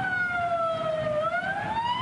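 Ambulance sirens wail on an airport runway, a steady rising and falling tone heard at moderate distance over a constant rumble of background noise.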